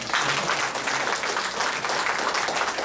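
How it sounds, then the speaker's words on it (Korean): A church audience at a testimony and praise night claps steadily, a dense and continuous round of applause that fills the whole stretch without pause. "우리 두 분을 위해서 박수 한번 하십시다."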